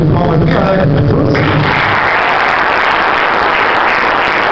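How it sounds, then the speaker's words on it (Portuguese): A church congregation clapping together during a sermon, loud dense applause that builds and sustains, close and filling the room. "Vamos receber o nome de Deus com palmas bem alegres de todos."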